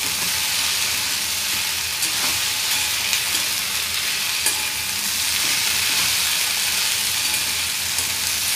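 Okra (bhindi) stir-fries in a pan with a steady, dense sizzle and faint scraping stirs, close and even throughout with no voices.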